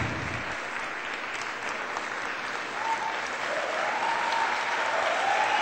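A church congregation claps together in dense, steady applause throughout, filling the room at an even level with a faint voice rising over it later.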